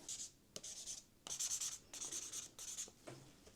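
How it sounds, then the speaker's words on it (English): Pencil drawing loose marks on paper, several scratchy strokes in short bursts with brief pauses between, quiet and close. "I'm just going to draw some marks"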